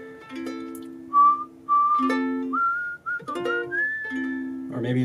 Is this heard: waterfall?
no